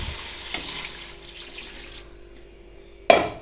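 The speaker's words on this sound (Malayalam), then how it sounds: "നമുക്കിനി വെള്ളം ഒഴിച്ചെടുക്കാം." Water is poured into a pan of simmering fish curry: a soft, fading hiss of liquid at first, then a sudden sharp splash and sizzle near the end.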